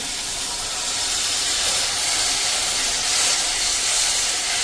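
Steady, loud hissing sizzle as about two spoons of water hit masala frying in hot oil for a dhaba-style moong dal curry, continuous and close throughout with no talking.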